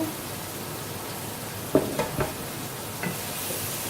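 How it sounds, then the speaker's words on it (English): Steady soft sizzling of soy protein chunks searing in hot oil, with a few brief stirring clatters partway through. "we're trying to get a sear on this veggie chunks, okay? You hear that? That's what you want"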